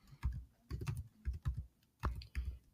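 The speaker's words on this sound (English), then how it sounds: "I'll type in hanging." A search keyword is typed on a computer keyboard in a few quick clusters of close, clicky keystrokes separated by short pauses, with no one speaking.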